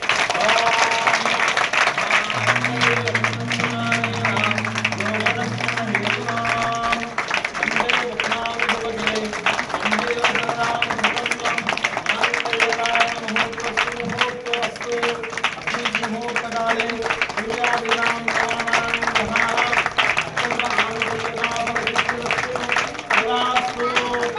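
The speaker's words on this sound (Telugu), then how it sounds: "అందరూ చప్పట్లు కొట్టాలి గట్టిగా" A large audience claps loudly and steadily for a long stretch, dense and sustained, with a voice briefly heard near the start.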